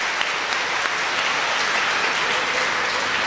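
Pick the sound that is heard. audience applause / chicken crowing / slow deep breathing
audience applause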